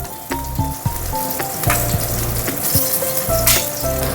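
Chopped dried red and green chillies frying in oil, a steady close sizzle with scattered pops and utensil knocks over a low background hum, no talk.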